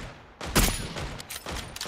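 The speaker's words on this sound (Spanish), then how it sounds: "hay disparos de acá arriba" Gunfire from the PUBG video game on the Miramar map, a burst of several loud, close shots with a sharp first crack and further rapid reports following over a couple of seconds.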